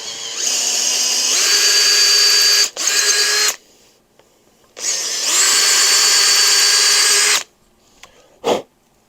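Power drill spinning an oversized bit through JB Weld-filled threads on a Harley XLCH Ironhead transmission: two long, high whining runs with a brief pause, then stopping, ending with a short burst, close and loud.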